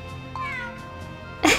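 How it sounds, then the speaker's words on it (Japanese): A cat in the game Grim Grimoire gives a single short, clear meow. A bright, louder sound effect bursts in right after it. "そしてこの猫ちゃんもかわいい。"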